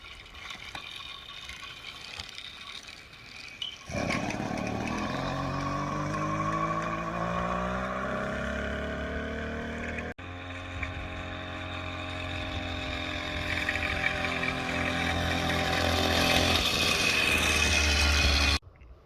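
A motorbike starts up after quiet rustling, then its engine revs and pulls away, pitch climbing through gear changes as it rides down the road, staying fairly near and steady.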